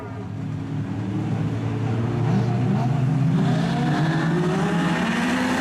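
Modified sedan race cars starting a heat race: a dense roar of several engines rising together and staying loud, with overlapping revving pitches and a faint voice underneath.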